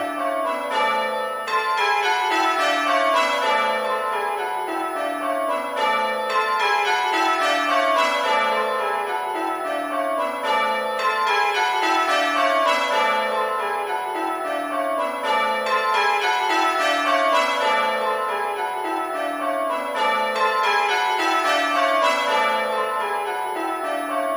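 Church bells in Bell Ringing Simulator ring continuous rounds, each bell struck in turn down the scale in a steady repeating cascade, loud and clear with overlapping ringing tails and no voices.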